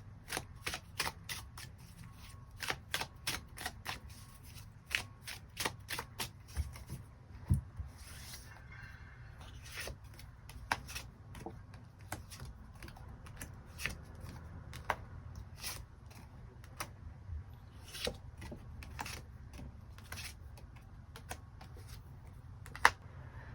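Tarot cards shuffled and drawn at close range, a long run of crisp, quick riffling flicks and soft slides in irregular bursts, with no voices.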